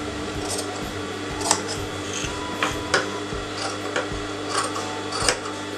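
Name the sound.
scissors cutting fabric inside a neckline canvas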